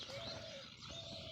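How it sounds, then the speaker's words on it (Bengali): A bird coos softly in the distance, a short repeated call over quiet background hiss. "পাখিগুলো কি সুন্দর আওয়াজ করতেছে"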